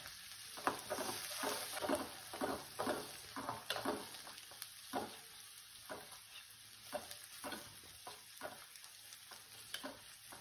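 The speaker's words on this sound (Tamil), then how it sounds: "வெங்காயம் நல்லா வதங்கணும்." Onions sautéing in a pan for a vegetable kuzhambu, a soft continuous sizzle broken by a steady rhythm of spatula scrapes and stirs, close and without any talk.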